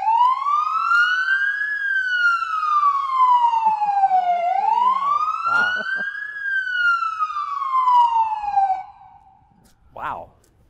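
A Tesla Model Y police car's siren cycles through loud, steady rising and falling wails for about nine seconds. After it stops, one brief chirp is heard.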